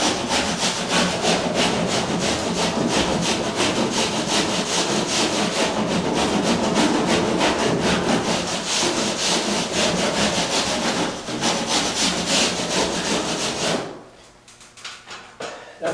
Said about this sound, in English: you can rasp off the edge of the sheetrock at an angle with this rasp.